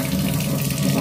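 Water splashes steadily into a bowl of dough being prepared for kneading, a close, continuous gushing rush with no voices over it.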